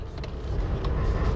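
A Mercedes-Benz G500 4x4² engine pulls hard under acceleration, a deep low rumble building over a second or so from inside the cabin, with no one speaking.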